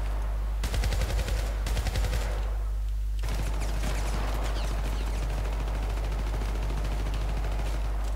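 Pistol fire in the video game Syndicate: a loud, rapid burst of repeated shots, followed by a second longer stretch of sustained gunfire, all heavy and close with a deep rumbling low end.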